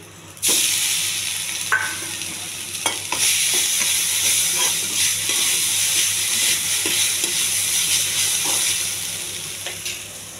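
Cooled rice with turmeric and salt is tossed into a hot pan for lemon rice, starting with a sudden loud sizzle that holds steady while a spoon scrapes and stirs at intervals, close and without talk.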